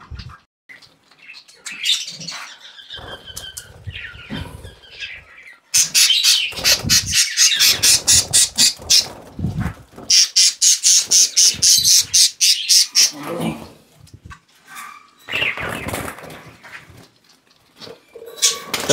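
Budgerigars squawking loudly as they are caught by hand at a bird farm, harsh rapid bursts of squawks close by, with pauses and rustling between them.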